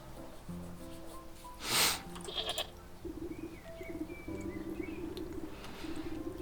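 Sheep bleat in the video game Wytchwood over a steady backdrop of game music, with a brief whooshing swell early on.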